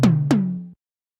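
Two clean synth tom drum hits pitched up four semitones with no distortion, each a sharp attack falling into a steady tonal ring, the second following closely and sustaining briefly before cutting off, loud and alone.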